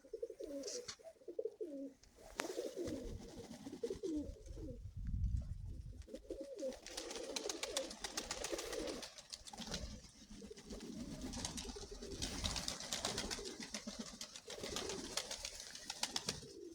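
Soft, repeated pigeon coos rise and fall close by, a low throaty burble continuing steadily over faint background noise.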